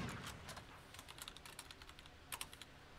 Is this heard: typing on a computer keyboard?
yes